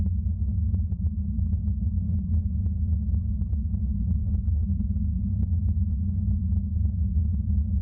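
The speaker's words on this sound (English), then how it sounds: "I created this sound of humming and emptiness" Redesigned space ambience for a Honkai Star Rail game menu: a low, steady, droning hum with a hollow, wind-like emptiness, constant and even throughout, with faint soft ticks above it.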